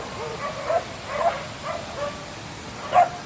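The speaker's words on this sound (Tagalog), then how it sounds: "At may mga aso na sumasalubong." A few short, light dog barks and yips spaced out over a few seconds on a mountain trail, fairly close, with no talking over them.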